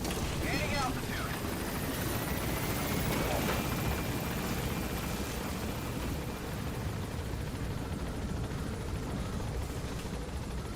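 A helicopter flies in Metal Gear Solid V: The Phantom Pain, a dense, continuous rotor and engine drone that holds steady and loud throughout, with faint tonal sweeps above it.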